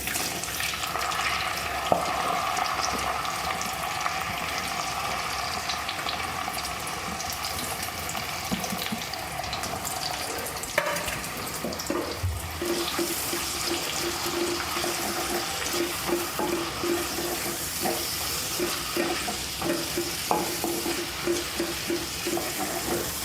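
Sliced onion hits hot oil in a heated clay pot and sizzles in a loud, steady hiss that crackles on and off for a long stretch.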